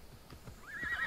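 A single horse whinny rising and quavering, preceded by a few soft hoof clops, short and fairly close, from a horse in the video game Assassin's Creed Odyssey.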